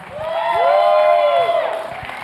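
An audience at a poetry finale cheers and claps for the poets, with long sustained whoops swelling and fading over continuous crowd noise.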